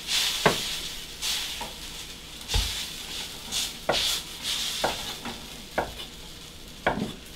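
A noodle pancake for chow mein fries in oil with a steady background sizzle, punctuated by irregular scraping and tapping of a utensil against the pan, close and moderately loud, without talk.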